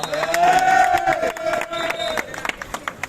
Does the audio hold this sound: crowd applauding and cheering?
yes